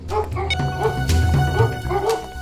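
Several Labradors being handled by a trainer bark and yip repeatedly in a lively, overlapping burst, with some whimpering, loud and close throughout.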